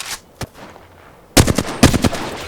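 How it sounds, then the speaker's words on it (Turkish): Video game gunfire: a couple of isolated sharp shots, a short lull, then a loud rapid burst of repeated shots close up. "köprüden biri sıkıyor"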